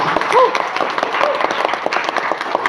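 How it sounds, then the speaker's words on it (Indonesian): An audience at a school quiz competition final gives a short, uneven burst of clapping, with voices and a few shouts mixed in throughout. "Tepuk tangan dulu untuk semuanya"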